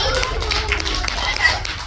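Applause from a crowd at an outdoor bird show in Melbourne, scattered clapping under a presenter's voice and other chatter, moderately loud and fairly brief.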